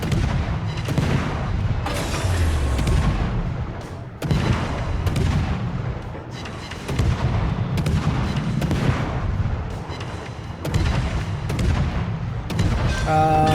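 USS Gearing destroyer main guns firing in World of Warships, repeated heavy booming salvos roughly every couple of seconds over continuous low rumbling battle noise.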